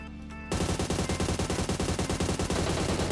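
Sustained full-auto fire from an MK-14 rifle in PUBG, a rapid, steady stream of loud, closely spaced shots that bursts in after a brief quiet lead-in and continues without a break.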